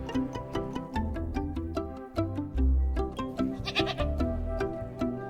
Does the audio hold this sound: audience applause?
no